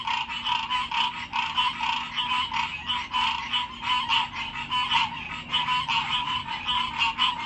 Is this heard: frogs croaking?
yes